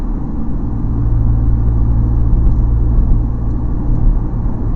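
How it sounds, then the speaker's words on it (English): Car engine running at low revs in a lower gear after a downshift while slowing on a winter road, a steady close-up rumble with no brake squeal, continuous throughout and alone without talk. "I'm going to be dropping my speed, pull back on the shifter, and get that lower gear"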